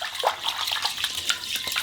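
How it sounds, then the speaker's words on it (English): Fingers swirl rice around in a bowl of water in a cottage kitchen, giving close, repeated sloshing and splashing in quick uneven strokes. "flick it around with my fingers,"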